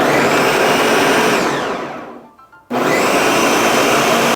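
A blender grinding vegetables for cucumber kimchi seasoning roars loudly and steadily, winds down to near silence for a moment, then kicks back on at full grinding power.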